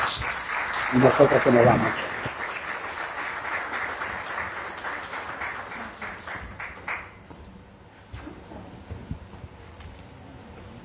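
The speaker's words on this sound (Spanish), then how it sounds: "Un aplauso para ellos." Audience applause at a teacher-training book presentation, a dense burst of clapping that swells in the first two seconds and then thins out, with people talking over it and a voice continuing after the clapping fades.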